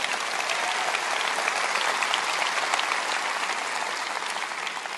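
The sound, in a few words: congregation applause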